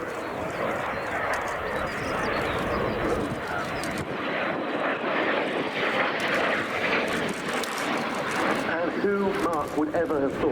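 A rare Messerschmitt Me 262 jet aircraft flies a display at the RIAT 2023 airshow, its jet engine giving a continuous, steady roar that swells slightly as it passes. Faint voices can be heard in the background.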